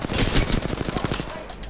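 Rapid automatic gunfire from the video game Apex Legends rattles in a dense, loud burst of evenly spaced shots that thins out toward the end.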